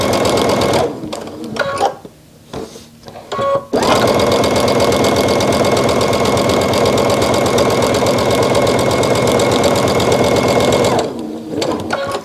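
A sewing machine stitches a quarter-inch seam on face mask fabric in loud, rapid mechanical bursts, with a few short stops at the start before running continuously, then pausing near the end.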